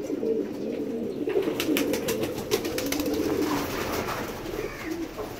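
Pigeons cooing in a rooftop pigeon loft, a steady murmur of soft, overlapping coos close by, with faint chirps and flutters mixed in and no talking.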